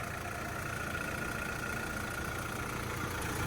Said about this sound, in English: A good sounding motor right there.